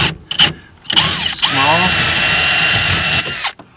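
A power drill bores into the keyhole of a 1994 Ford Ranger XLT door, whirring loud and close in a steady run of nearly three seconds after two short bursts, with a brief spoken word.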